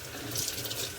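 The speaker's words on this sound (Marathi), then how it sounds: "आता हे खेकडे आपण मस्त धुवून घेणार आहोत" Crabs being washed under a running kitchen tap, a steady close splash of flowing water with no voices.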